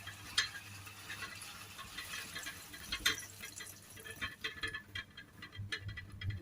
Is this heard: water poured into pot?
yes